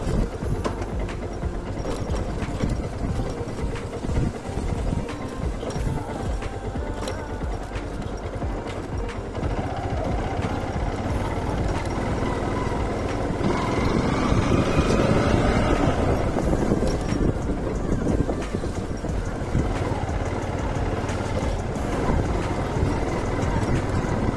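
Motorbike engine running steadily on a rough, slippery road, a continuous mechanical rattle and rumble that swells louder around the middle and holds to the end, with no talk.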